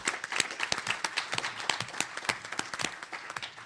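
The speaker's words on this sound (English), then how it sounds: "So maybe we can just give ourselves a round of applause for that." Short round of clapping from a small audience at an organizational change panel, individual claps audible in a quick irregular patter, fairly quiet and brief.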